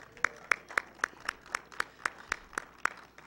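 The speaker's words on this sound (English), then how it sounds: "We'll give the Lord a hand clap and a shout." A church congregation claps in unison during a sermon, about eleven sharp, evenly spaced claps in a steady rhythm, crisp and moderately close, with no speech over them.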